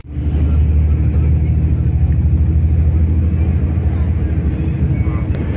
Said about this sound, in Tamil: இப்போ ரொம்ப நேரம் டிராஃபிக்கில் மாட்டியிருக்கோம்.